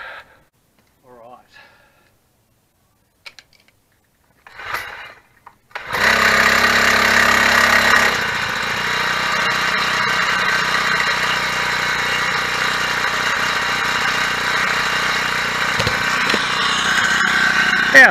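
A four-stroke motorised bicycle engine is yanked by its pull cord in a few short bursts, then catches and runs at a loud, steady idle close by for the remaining seconds.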